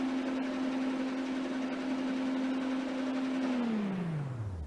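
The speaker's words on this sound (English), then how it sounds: "Ah, the engine seized." A car engine in the BeamNG.Drive driving game holds a steady loud drone, then winds down in pitch over its final second as it seizes and dies, with no talking.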